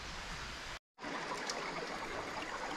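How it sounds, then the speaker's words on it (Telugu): Water flows steadily over rocks like a small stream on a trek near waterfalls in Kurnool, a continuous close rushing wash broken by one brief dropout. "అక్కడైతే వాటర్ శబ్దం వస్తుంది, అంటే చిన్న పిల్ల కాలువ మాదిరి. ఆ వాటర్ ఫ్లో అవుతూ కిందికి పోతున్నాయి."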